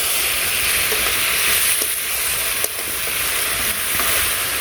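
Mixed red, white and green vegetables sauté in a pan in a village kitchen, giving a dense, steady sizzle and hiss with a few faint stirring clicks, close and continuous with no talk.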